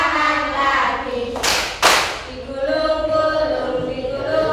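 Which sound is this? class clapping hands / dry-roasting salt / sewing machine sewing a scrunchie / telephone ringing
class clapping hands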